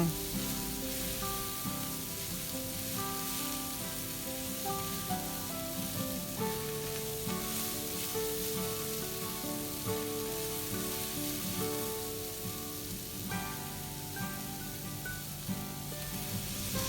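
Chopped garlic sizzles in a pan in a steady, continuous hiss, while tonal background music plays throughout.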